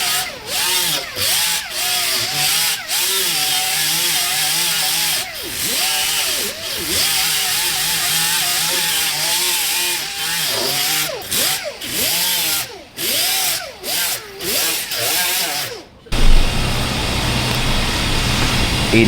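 A power grinder works an auto body panel in a collision repair shop, a loud steady whine that bogs and lifts in repeated passes for about sixteen seconds. Then it cuts off into a rougher, noisier sound.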